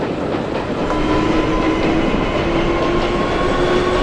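F subway train rolling through OpenBVE, a train simulator, on a snowy run: steady rail rumble and wheel noise with a faint tonal whine from the motors, continuous and fairly close, with no talk.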